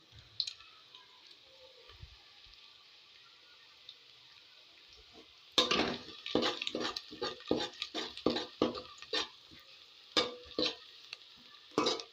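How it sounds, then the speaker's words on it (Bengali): Onions fry quietly in a pan while a spoon scrapes and stirs them in a run of sharp, rhythmic strokes over a faint sizzle, after a near-silent opening stretch. "পেঁয়াজটা ভালো করে নাড়তে নাড়তে আমি লাল করে নিয়েছি"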